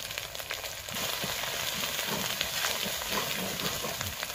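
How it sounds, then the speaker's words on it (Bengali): Masala with turmeric powder frying in a pan for fish biryani, a steady close-up sizzle and crackle with soft stirring scrapes and no talk throughout. "মশলাটা ভালো করে আমি কষে নেব"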